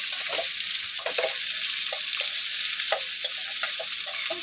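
Onions and chicken fry in a pan with salt, a continuous close sizzle punctuated by regular scraping stirs of a spoon against the pan, no voices.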